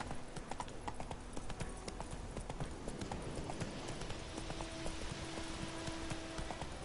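Roach, Geralt's horse in Witcher 3, trots along with steady rhythmic clip-clop hoofbeats, close and continuous at low volume with faint game ambience.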